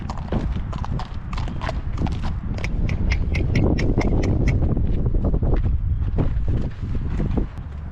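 A horse's hooves clip-clop steadily and close by on a team roper's ranch as the horse is taken out to be worked, a brisk, even rhythm over a constant windy rush.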